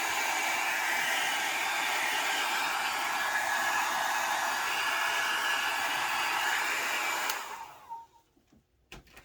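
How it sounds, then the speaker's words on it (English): A hair dryer on its cool setting blows steadily over an alcohol ink ornament, a loud even rush of air that cuts off near the end, leaving faint handling noises. "I'm going to take the dryer to it again because I want to touch it and I don't want to rub anything off"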